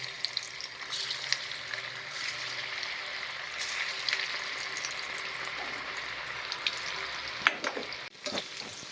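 Mathri made from rice flour and besan frying in hot oil, with a steady close sizzle and faint bubbling running throughout, a few brief clatters as the pieces are stirred near the end.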